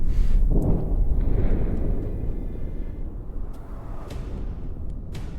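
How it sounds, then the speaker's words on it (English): Gigantic explosions strike ship shields in the naval combat video game From the Depths, opening with a loud, heavy blast that fades into a long, rolling low rumble. "Gigantic explosions, but the shields are soaking them up."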